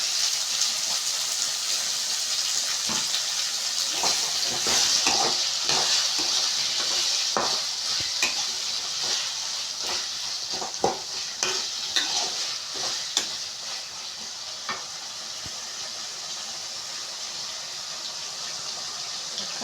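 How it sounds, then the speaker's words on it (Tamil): Chopped tomatoes and green chillies sautéing in a pan for tomato rice: a steady hissing sizzle with frequent close scrapes and taps of a ladle stirring, getting more sporadic later, with no voices. "போட்டுட்டு நல்லா வதக்கிக்கலாம்."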